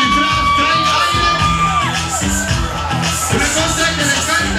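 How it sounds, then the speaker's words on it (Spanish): Crowd cheering, whooping and shouting at a bikini contest as a contestant is welcomed, loud and continuous over rhythmic background music. "¡Un aplauso para recibir a Karen González!"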